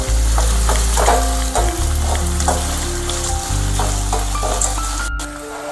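Coriander leaves dropped into hot oil while making puffed-rice chivda, a loud, dense crackling sizzle that fills the whole stretch up close, with spatters and light stirring throughout.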